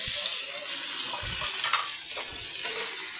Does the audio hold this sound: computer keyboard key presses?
no